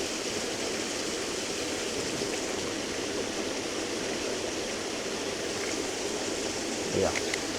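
A woodland waterfall pouring into a stream, a steady full rush of white water that holds even and unbroken throughout, close by with no voices.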